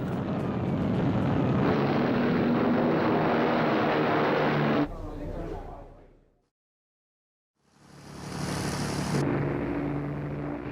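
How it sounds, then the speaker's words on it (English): Propeller-driven British bombers roar loudly at close range, taking off on a raid to Essen in March 1943, the steady engine drone cutting out abruptly into near silence before rising again. "British planes took off for the German industrial city of Essen"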